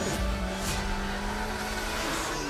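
A car engine roaring and revving under load, a loud dense drone with steady harmonic tones holding throughout.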